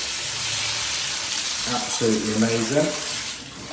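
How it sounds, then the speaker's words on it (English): A household tap runs at full flow after a hot water cylinder upgrade, giving a loud steady broadband hiss of rushing water throughout, while someone speaks briefly over it. "Let's see what the water flow rate's like on this tap."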